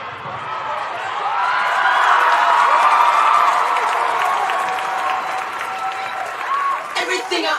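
A live audience claps and cheers during a freestyle music podcast showcase, a full burst of applause swelling and holding for several seconds before thinning into scattered claps at the end.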